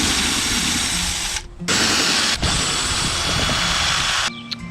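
A power drill spins out screws holding a car tail light, a steady close whir broken by a short pause and ending with a brief stop.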